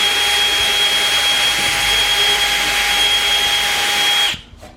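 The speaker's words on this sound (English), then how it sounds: "we'll drill it right here." A power drill with a 1/8 bit whines loudly and steadily at close range for several seconds through the metal of a metal building's window frame, then stops abruptly, leaving a short fading spin-down.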